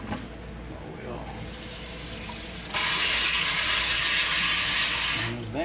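Garden vegetables rinsed under a running tap on a Louisiana homestead, water hissing steadily and growing louder midway, with small clinks and handling noises and no talk.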